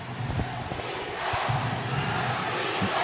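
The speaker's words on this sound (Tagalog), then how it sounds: "Davao crowd now getting involved" Crowd noise from spectators at a Palarong Pambansa championship basketball game between Davao and Calabarzon, a steady broad roar with scattered shouts and swells, fairly loud and continuous throughout.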